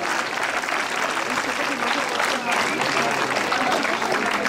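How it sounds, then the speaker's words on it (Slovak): A crowd at a school awards ceremony claps loudly and steadily, filling the whole stretch with dense, even applause. "Veľký potlesk ďalším oceneným a umiestneným školám."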